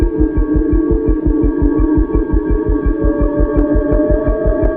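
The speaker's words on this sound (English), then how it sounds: "this ambient, it's not really music, it's kind of like a hypnotic droning is going on in the background" Steady hypnotic droning hum with a pulsing, throbbing low beat repeating rapidly underneath, continuous and fairly loud, no speech.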